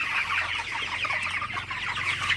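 A flock of broiler chickens clucks continuously nearby, many overlapping calls forming a busy, steady chatter over a low hum.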